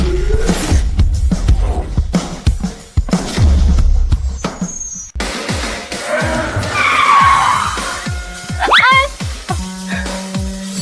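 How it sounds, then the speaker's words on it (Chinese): A top-end supercar, said to cost ten million, accelerates hard with tires skidding and squealing, the engine note rising and falling loud and close through the run, with short bursts of people talking over it. "这种顶级跑车的感觉，好快，好刺激啊！"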